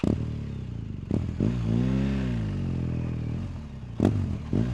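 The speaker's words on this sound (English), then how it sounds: "that right there is my 2022 BMW R1250 GS. And we're headed out for a nice ride" A 2022 BMW R1250 GS motorcycle being ridden, its engine note rising and falling in a long rev with rumbling low tones, a few sharp clacks at the start and end, no voices.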